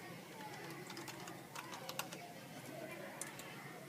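Fingers type on a computer keyboard, a quick scatter of light, faint key clicks over a steady background hiss, with no talking.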